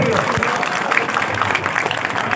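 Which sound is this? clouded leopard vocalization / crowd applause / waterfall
crowd applause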